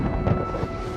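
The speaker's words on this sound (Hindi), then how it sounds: "अचानक उन्हें अपने ऊपर बादलों की गरज सुनाई देती है" Low rumbling thunder overhead in the period ballooning film The Aeronauts, a dense, steady roar in the low end that holds for about a second, with no voices.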